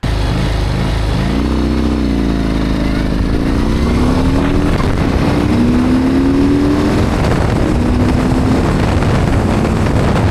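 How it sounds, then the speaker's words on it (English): A Harley-Davidson Street Bob 117ci motorcycle engine revs up loudly with rising pitch and brief shifts from first to second gear, the rear wheel briefly spinning, steady rumble and wind buffeting throughout, no talking. "the rear wheel actually spins briefly when shifting from first to second"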